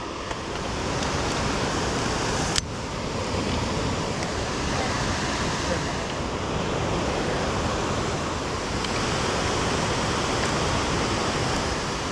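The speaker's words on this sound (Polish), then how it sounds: "Cyklała to najwyższy wodospad w Polsce" Siklawa, the tallest waterfall in Poland, roaring as a steady, dense rush of falling water heard close up and without a break, with one brief sharp knock early on.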